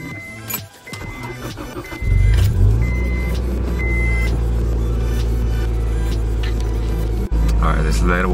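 Honda Acura Integra GSR engine starting with a short crank, then settling into a steady, loud idle as it warms up, close by, with some brief noises near the end.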